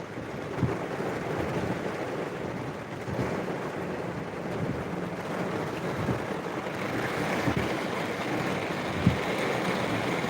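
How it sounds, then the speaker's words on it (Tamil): Heavy rain pounds steadily on a vehicle in Kerala with wipers running fast, a dense hiss over a low rumble, with occasional soft thumps. "நல்ல மழை பார்த்தீங்களா வைப்பர் எவ்வளோ ஸ்பீடாக ஓடியுமே மழை எப்படி அடிக்க பாருங்கள்"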